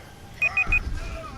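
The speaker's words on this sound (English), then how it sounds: "sorry about that beeping there, folks" Three short, clean electronic beeps from a Discord technical glitch, evenly spaced and fairly loud, followed by a low thump and quiet background murmur.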